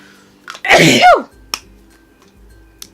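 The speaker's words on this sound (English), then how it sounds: "And I need to sneeze now." A single loud, close sneeze with a sharp inhale and explosive burst, followed by quiet and a couple of faint clicks.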